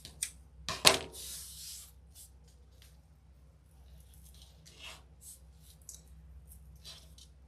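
Scissors snip through excess deco mesh for a scalloped flower wreath: a few sharp, close cuts cluster near the start, followed by faint rustling and light handling in an otherwise quiet room.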